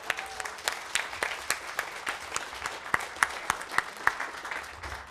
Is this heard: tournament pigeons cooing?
no